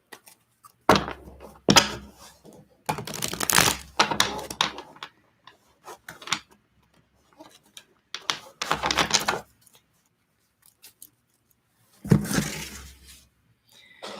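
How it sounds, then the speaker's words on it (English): Tarot cards being shuffled by hand during a live reading, heard as bursts of riffling and tapping in several separate runs with pauses between, close and moderately loud, with no talking. "I am going to shuffle the cards for Jennifer."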